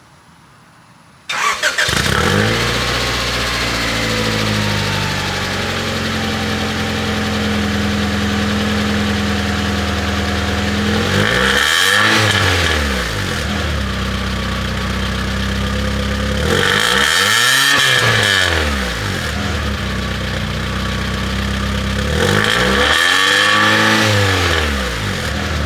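Honda Prelude engine with a cut muffler cranks and fires, settles into a rough loud idle, then revs up three times in distinct swells before dropping back, close and unmuffled with no talking.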